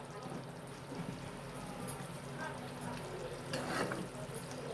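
Butter chicken frying in a pan is stirred, giving a soft continuous sizzle with spoon scrapes and a brief louder clatter near the end, fairly quiet overall.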